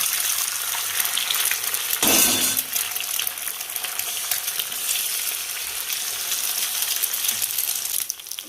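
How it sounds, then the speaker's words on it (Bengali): Eggs scrambled in hot oil in a pan for a noodle dish with vegetables give a steady, close sizzle throughout, with a sharp clatter near the start as they hit the oil, and no talking. "তেল গরম হয়ে গেছে, ডিমের ভুজিয়াটা করে নেব।"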